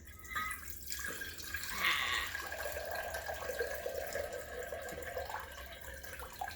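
Cold water pours into a glass jar in a steady, continuous splashing flow, fairly close and even in level throughout.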